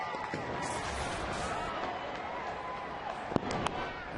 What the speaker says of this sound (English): The fireworks are still going for Pedro Alvarez.